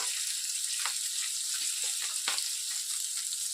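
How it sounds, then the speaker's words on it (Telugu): Green chillies fry in hot oil in a pan, giving a steady, close hiss of sizzling with scattered soft pops and crackles and no voices over it. "చూడండి, పచ్చిమిర్చి బాగా వేగిపోయిందండి"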